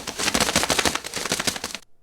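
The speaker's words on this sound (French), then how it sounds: "Ici, c'est le bruit des ailes d'un oiseau." Library sound effect of a bird's wings flapping, a rapid run of dense, loud whooshing beats lasting under two seconds, then cut off abruptly.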